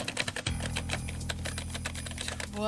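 Computer keyboard typing in a Windows 95 video game: rapid, uneven bursts of key clacks over a low steady hum, close and fairly loud, with no talking.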